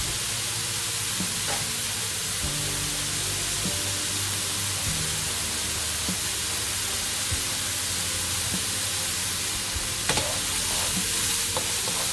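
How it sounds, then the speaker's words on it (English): Mushrooms flattened across the base of a hot pan sizzle steadily to take on colour, a loud, even hiss running unbroken with a few faint clicks and pops and no talking. "just leave them to catch a little bit of colour from the pan"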